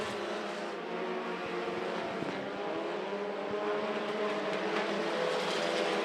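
Sprint cars racing on the Monarch Motor Speedway dirt track in a Texas Sprint Series event, a continuous loud engine roar from the pack with rising and falling pitch as cars pass, filling the whole stretch.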